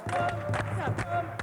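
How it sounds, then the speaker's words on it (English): An audience claps hands along in rhythm, a few regularly spaced claps over chanting voices and a steady low hum. "Clap your hands!"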